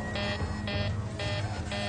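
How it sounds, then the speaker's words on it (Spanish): Aircraft cockpit general alarm on a Helios Airways airliner, a steady repeating electronic tone pulsing on and off about four times over a constant engine-like drone. "Ahora se ha encendido la alarma general."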